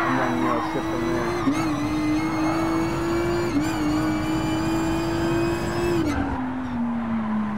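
A Nissan GT-R R35 accelerates hard during a Gran Turismo Sport drag run. The engine whine climbs loudly and steadily, with brief dips at gear changes and a clear drop in pitch after an upshift near the end.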